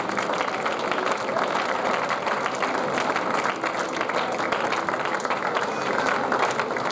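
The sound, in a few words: congregation applauding in church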